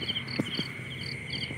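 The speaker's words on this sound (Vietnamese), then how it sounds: "Rồi con dế nhảy dưới tí xíu nữa tiêu luôn. Đó, con dế kìa." A cricket chirps near and fairly faint in short, evenly spaced pulses against quiet outdoor background noise beside water, where someone is fishing for snakehead; soft low knocks are audible between the chirps.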